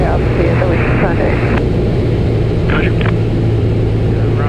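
A constant, loud engine and wind drone fills a small airplane's cockpit in flight during a private pilot flying lesson, heard steadily under radio and instructor talk.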